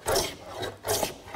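A hand plane strokes across the end grain of a wooden board in two quick rasping passes with a short pause between, close and clear, with no talking.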